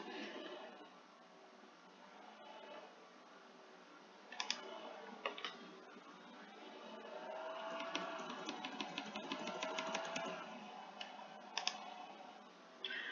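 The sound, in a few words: typing an email address on a computer keyboard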